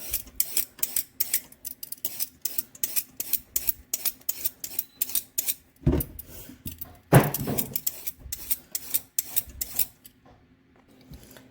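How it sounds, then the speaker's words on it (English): A peeler scrapes along three good-sized carrots in a kitchen, giving quick, rhythmic rasping strokes close by that pause briefly midway, with no talking. "I'm going to peel these up."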